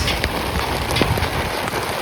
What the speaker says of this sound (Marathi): तर लय जोरात पाऊस आलाय